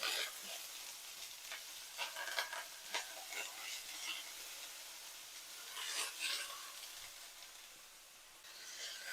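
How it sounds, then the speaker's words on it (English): Onions frying in a skillet, giving a faint, steady sizzle with intermittent stirring scrapes throughout, quiet and close. "We're going to add the onions to the skillet."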